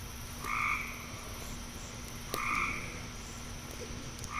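Frogs croaking by a pond on a night of the July full moon, two loud, drawn-out croaks a couple of seconds apart, close by and clear over steady background hum with no voices.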